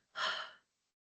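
One deep, breathy exhale lasting about half a second, close and fairly soft, like an audible sigh, then silence.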